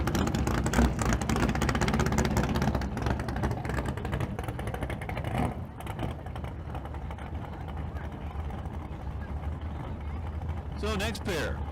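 Street cars pull away down a drag strip at a Las Vegas street car event, a loud engine roar that fades as the pair heads off into the distance, heard under continuous announcer commentary.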